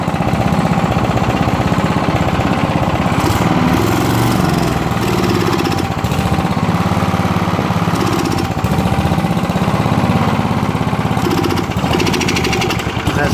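A small engine, burning oil but fuel-efficient, runs flat out at full throttle with a loud, steady, rattling drone that holds constant for the whole stretch, with no talk over it.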